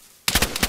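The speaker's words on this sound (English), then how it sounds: "I'm getting shot at." Gunfire in the survival game Rust erupts after a near-silent lead-in, a rapid burst of about five or six close, loud shots in a quick steady rhythm.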